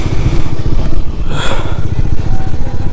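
A motorcycle engine warming up outdoors on a misty mountain homestay morning, loud and close with a steady rapid low thumping idle throughout.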